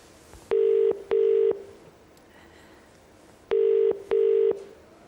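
A telephone rings out on a game show call: two pairs of steady electronic ring tones, each burst about half a second, separated by a pause of near silence, loud and clean.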